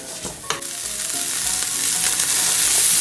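Green beans and carrot sautéing in a hot pan, a steady close sizzle that swells louder over a few seconds, with a couple of brief clinks and stirring scrapes near the start.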